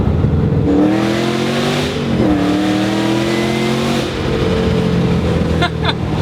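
A loud supercharged V8 engine of a 2008 Shelby GT500 revs and accelerates with a deep, rising growl and a whining overtone, steady and close, with a brief dip and surge partway through.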